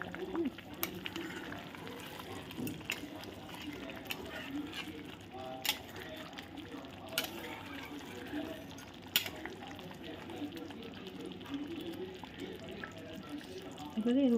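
Katla fish rezala simmering in oil and gravy in a pan, giving a steady, quiet sizzle and bubbling with occasional soft spatters and clinks, while a person talks over it.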